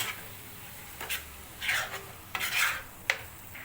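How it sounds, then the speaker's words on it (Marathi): Octopus khimma stirred in a pan, Koli-style: a few scraping, sizzling strokes that swell and fade in irregular bursts, ending with a sharp clink. "आता पुन्हा परत मिक्स करून घेऊ"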